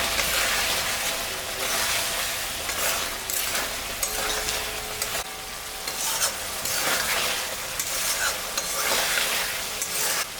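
Eggplant frying with salt and a little turmeric for a mustard-style home dish, a loud continuous sizzle close up with steady scraping stirs throughout.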